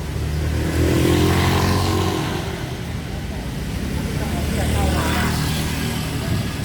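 Busy road traffic on a street in Bang Kho Laem, Bangkok, Thailand, with cars and motorbikes rumbling and revving past nearby in a steady wash.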